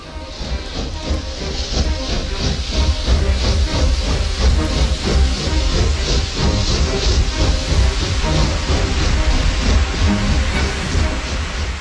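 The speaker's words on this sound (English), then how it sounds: "This rather beautiful locomotive is Planet, a replica of the very first one to run down these tracks in 1830" A replica of the 1830 Planet steam locomotive on the Liverpool and Manchester Railway, running close by with a loud, steady rumble and a rhythmic chuffing hiss throughout.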